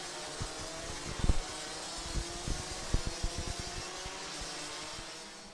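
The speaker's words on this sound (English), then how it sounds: "These are the 2-speed Rotax karts." Two-speed Rotax racing karts on rolling laps give off a faint, distant engine buzz with scattered soft bumps and rattles, quiet and fairly steady, with no voices.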